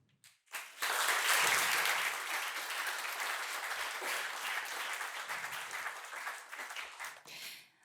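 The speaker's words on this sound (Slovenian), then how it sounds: "Vabim vas, da prisluhnete njihovim idejam in jih podprete še z vašim aplavzom." Applause from an audience at a university awards ceremony, a sustained burst of many hands clapping that swells quickly, holds steady for several seconds and then tapers off.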